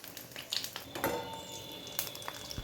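Pumpkin flower pakoras deep frying in hot oil, a soft, steady sizzle with a few light clinks of a utensil against the pan, fairly quiet and close, with no voices.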